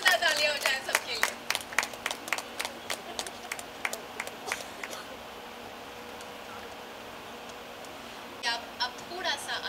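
Audience at a Jashn-E event in India claps in a dense burst of applause that thins out and stops midway, with a few scattered claps returning near the end.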